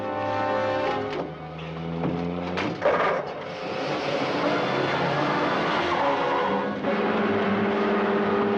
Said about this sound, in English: They're taking off in the car.